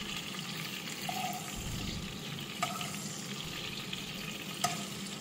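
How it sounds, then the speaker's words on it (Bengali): Hilsa fish frying in oil in a wok, a steady, close sizzle with bubbling crackle that holds throughout, marked by a couple of faint metallic clinks. "হালকা করেই মাছটা আমি ভেজে নিচ্ছি"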